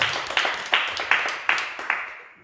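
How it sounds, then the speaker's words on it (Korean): A church congregation claps in a slow, steady rhythm of about six sharp claps, each ringing briefly in the reverberant sanctuary before the next. "우리 하나님께 박수 한번 올려줄까요?"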